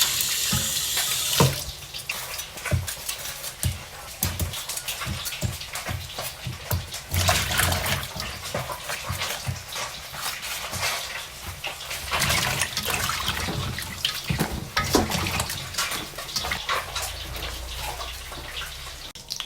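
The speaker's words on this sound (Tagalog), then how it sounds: "Yan ang palaya. Hugasan na natin." Bitter gourd washed under a running tap, a loud continuous splash of water into a sink with handling noises mixed in, close by and without talk.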